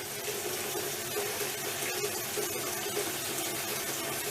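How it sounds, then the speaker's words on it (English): Water runs steadily into a container ahead of a 3D printed positive displacement pump test, a continuous close splashing gush with no pauses. "We're just filling up the container"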